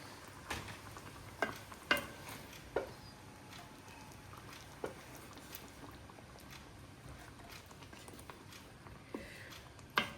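Curd going into a mango curry cooking in a pan: a quiet, steady simmer with soft sizzling and occasional sharp clinks and taps from stirring.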